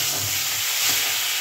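Fish heads frying in a kadai or wok give off a constant, fairly loud sizzle and steamy hiss with slight stirring movement, uninterrupted and without talk.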